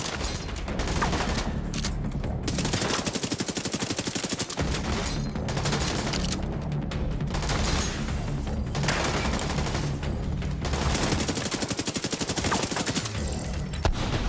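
Near-continuous rapid automatic gunfire from a suppressed weapon in The Division 2, loud and dense throughout with only brief gaps between bursts.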